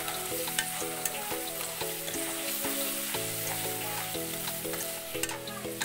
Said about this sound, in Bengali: লঙ্কার গুঁড়োটা দিয়ে ভালো করে নেড়ে নিচ্ছি।